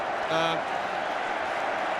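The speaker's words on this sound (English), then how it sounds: "Didier Drogba milking the applause of the Chelsea fans" Chelsea fans applauding and cheering across Wembley Stadium at the 2007 FA Cup final against Manchester United, a steady wash of crowd noise with no individual claps standing out, and a short whistle-like tone near the start.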